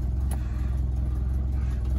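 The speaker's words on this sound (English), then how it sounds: "quick video of start-up and engine running on this 1967 Mini 850 automatic" A warm 1967 Mini 850 automatic runs at a steady, even idle, giving a close, low, throbbing engine rumble that stays constant with no talking.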